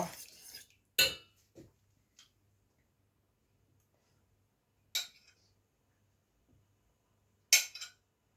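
Sparse clinks and taps of utensils against dishes while food is scooped from a pan onto plates, a few sharp knocks spaced out over quiet pauses with faint room sound between.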